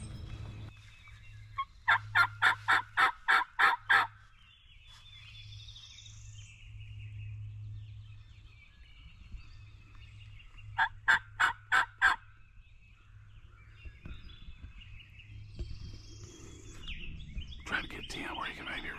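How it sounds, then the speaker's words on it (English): Wild turkey gobbles in two loud bursts of rapid, rattling calls from an outdoor hunting setting in Kentucky, set over a steady low hum with faint birdsong between them. "This bird quit gobbling."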